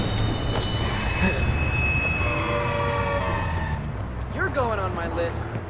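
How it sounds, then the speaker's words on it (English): Subway train in Watch Dogs pulling into a station, rumbling steadily with squealing wheels and a rising whine as it slows, while a station announcement voice speaks over it. "Northbound train, arriving shortly."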